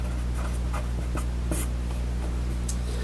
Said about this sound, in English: I'm going to write some stuff down under here in a moment.